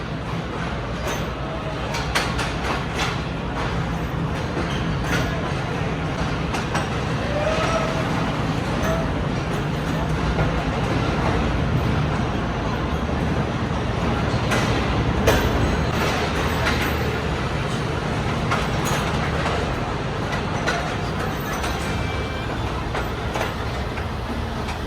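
A train rolls past a crowded railway station platform in Pakistan, a continuous rumble with rhythmic clacking and metallic squeals, crowd murmur and scattered voices around, loud and close throughout.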